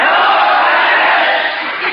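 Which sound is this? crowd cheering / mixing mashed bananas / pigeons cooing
crowd cheering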